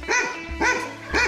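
A dog barks three times in a village setting, loud and close, with evenly spaced sharp barks and short gaps between them.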